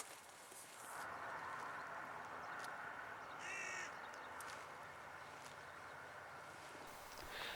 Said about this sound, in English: a third crow had arrived